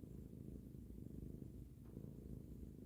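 A contented female cat purrs close by in a continuous low, rhythmic rumble that holds steady throughout, with no talking over it.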